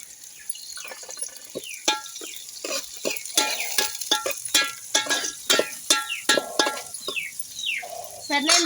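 Curry leaves and green chillies frying in a pan of hot oil give irregular, close crackles and sharp spattering pops, with scattered clinks of stirring and no talking.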